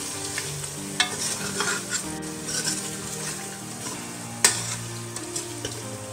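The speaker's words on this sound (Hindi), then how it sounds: "थोड़ा सा इसको अच्छी तरह से इसको भूनेंगे" Ground mace and spices frying with mutton for Chinioti kunna in a pot, with steady close sizzling and occasional stirring scrapes throughout, no voices.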